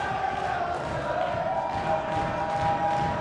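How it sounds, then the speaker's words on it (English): An excited crowd roars continuously at a professional pool match during the 2015 Mosconi Cup, loud and dense throughout with no single voice standing out. "But I don't know if we're ever going to get this crowd to quiet down."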